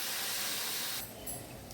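Jackfruit fries in a pan with turmeric and homemade cumin powder, giving a loud, close, continuous sizzling hiss that drops noticeably partway through.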